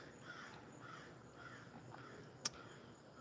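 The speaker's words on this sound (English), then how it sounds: "It's my beautiful birds. Always get signs from the birds." Crows caw faintly in the distance outdoors, soft repeated calls over a quiet hiss of background ambience, broken once by a brief sharp click.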